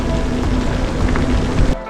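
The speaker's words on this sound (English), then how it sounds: "It's also going to be a windy and rainy day with thunderstorm." Steady rain falls on a windy, stormy day during a bikepacking trip, a dense close hiss of drops spattering on a surface that runs without pause until it cuts off abruptly near the end.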